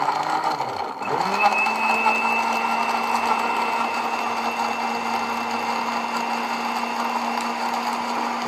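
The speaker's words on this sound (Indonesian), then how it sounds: "Anggur yang sudah dipotong-potong ini baru kita blender bersama dengan bawang putih." A blender runs continuously, whirring as it purees cut grapes with garlic; the motor spins up after a brief start and holds a steady, loud drone throughout.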